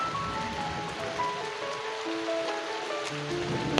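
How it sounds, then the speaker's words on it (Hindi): Steady heavy rain pouring down at Tibba Mahadev temple in Salouni, Hamirpur, Himachal Pradesh, a constant wash of noise, with faint tonal sounds drifting in the background. "बारिश आप देख सकते हैं अभी भी बहुत ज़्यादा लगी हुई है"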